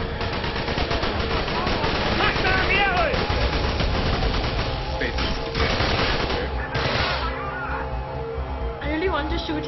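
Gunfire in the Call of Duty: Black Ops video game, with rapid automatic shots and bursts that run almost continuously and loud. Excited voices talk over the shooting.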